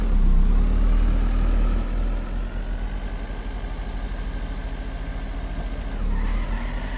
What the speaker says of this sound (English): We now have burnouts added to the game.